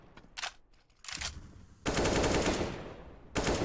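Automatic rifle fire sprays in a Counter-Strike: Global Offensive match, with short rapid bursts followed by a sustained loud volley and a final burst.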